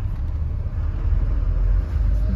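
A vehicle pulling away on a rural outing, its engine a steady low rumble that builds slightly as it starts rolling, close and continuous with no voices over it.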